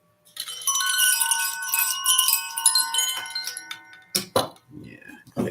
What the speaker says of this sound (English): I just love to hit the bells.